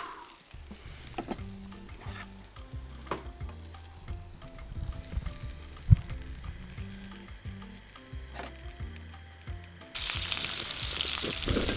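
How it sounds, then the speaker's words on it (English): Steak searing in a hot pan during outdoor garden cooking, a steady crackling sizzle with scattered pops and stirring clatter, intensifying into a louder, brighter hiss near the end; no talking. "take them off the heat now, and get the steak cooking"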